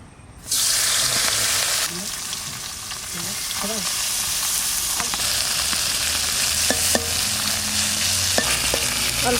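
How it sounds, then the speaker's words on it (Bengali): Small morola fish hit hot oil in a pan and sizzle loudly, a continuous frying hiss with occasional pops and stirring clinks throughout. "মাছ ভাজা করব, তেল দিচ্ছি,"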